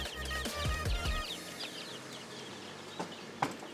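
Farm hens, some of them mother hens, give a few soft clucks and chirps close by in a yard, with scattered higher calls fading into quiet rustle.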